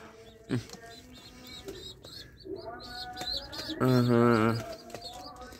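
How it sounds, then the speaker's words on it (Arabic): Young birds, fledglings, chirping and cooing close by, a few bright calls and a sustained warbling call, with some soft background noise. "تعال نراويكم الطيور"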